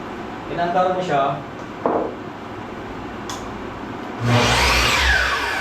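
A voice speaks briefly before a Makita LS1219L miter saw starts on its soft start, its motor whirring up gradually into a loud, close, sustained spin near the end.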